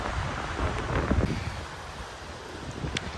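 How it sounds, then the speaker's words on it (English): Gusty wind buffets the microphone in low rumbling bursts, swelling and fading over a few seconds with no voices. "So it's a really windy day"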